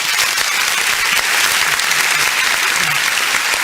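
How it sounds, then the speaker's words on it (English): An audience applauds loudly and steadily, with dense sustained clapping throughout and a few indistinct voices mixed in. "listen as we all applaud you"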